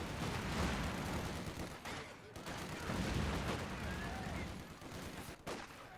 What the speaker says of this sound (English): Oh, another grenade!